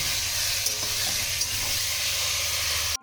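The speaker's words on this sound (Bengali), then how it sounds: "একবারে সমস্ত পটলগুলোই আমি দিয়ে দিচ্ছি, দিয়ে আমি ভেজে তুলে নেব" Pointed gourd peels fry in hot oil in a pan, a constant close hiss and crackle with a few faint spatula touches, cutting off abruptly at the very end.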